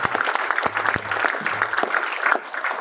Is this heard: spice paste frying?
no